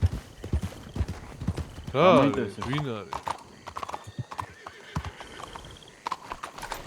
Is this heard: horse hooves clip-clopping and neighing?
yes